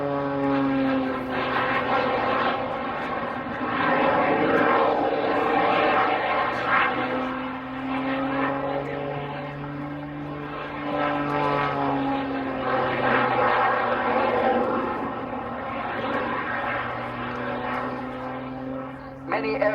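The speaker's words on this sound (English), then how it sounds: "It's a very complicated aircraft. Obviously we've got jet engines attached" Aerobatic aircraft with jet engines attached and a smoke system, flying at Cosford Air Show, a loud continuous droning engine roar that rises and falls in pitch as it manoeuvres overhead.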